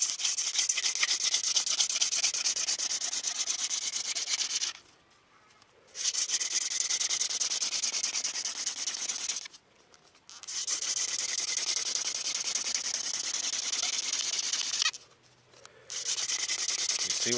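A wooden friction fire drill rubs hard against a hearth board to make an ember, giving loud, steady raspy grinding strokes in three long bursts separated by brief pauses.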